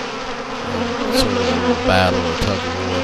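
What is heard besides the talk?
honeybees at sugar syrup feeder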